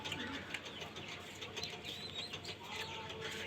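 Pigeons offered for sale, including a pair of Kaldom pigeons, murmur and coo softly amid steady low ambient noise, with no clear individual calls standing out.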